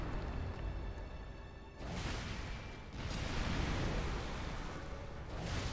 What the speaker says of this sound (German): Wusste gar nicht, dass die Kanone so viel Rückstoß hat